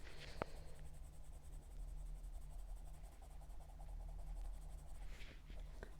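Colored pencils from Van Bleiswijck are layered onto paper with light pressure, giving a faint, continuous scratchy scraping of soft strokes, close and quiet, with no talking.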